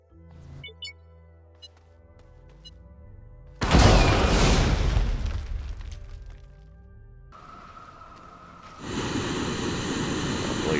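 Dynamite detonating in the space exploration game Astroneer: a sudden loud broadband boom with a crackling, rumbling tail that fades over a few seconds, preceded by quiet tonal game ambience and followed by steady noisy ambience.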